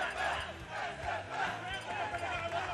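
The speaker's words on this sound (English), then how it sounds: "They are cheering for their boys." A Super Smash Bros. Ultimate tournament crowd cheers and shouts in a continuous, swelling roar of many voices, fairly distant and even in level.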